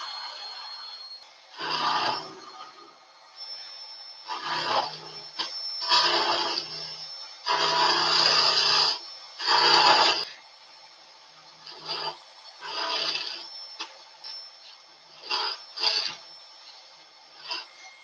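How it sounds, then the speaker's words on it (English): A 1/4-inch skew is held against a spinning wooden ball on a lathe to friction-burn a line, giving a rasping, squealing rub in repeated bursts of a second or two with quiet gaps between. "So you hold it and friction burn it, and it pops in."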